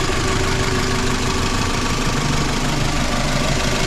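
Engine of a 2000 Toyota RAV4 running at a steady idle, a dense, close, constant rumble with a slight knocking texture and no pauses.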